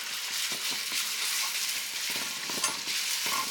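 Beef sizzles and fries steadily in a pan while a spatula breaks it up, making scraping, stirring scuffs over a constant close crackle, with no talking.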